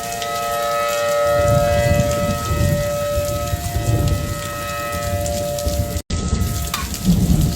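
A civil defense tornado warning siren wails steadily during a rainstorm in Lawton, Oklahoma, its tone held over dense rain hiss and low rumbling, with a brief dropout near the end; no one speaks.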